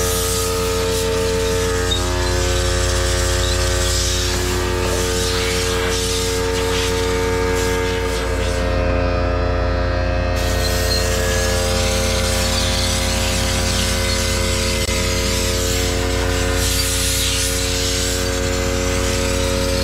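Air compressor running while compressed air is blasted to clean a Hoshizaki ice maker: a loud continuous mechanical drone with steady humming tones and a hissing wash across the whole stretch, briefly dipping in the middle.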